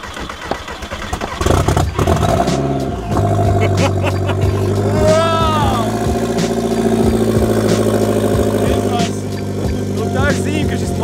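A car engine that sat unused for a year starts up and settles into a steady, loud idle, with repeated ticking pulses running through it and a few revs. Voices talk over the running motor.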